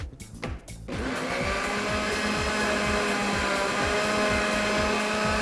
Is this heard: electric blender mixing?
yes